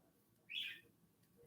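A pet bird gives one short, bright chirp, faint and a little distant over a quiet indoor background.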